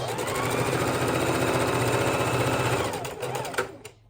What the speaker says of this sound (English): point to point, lock in my stitch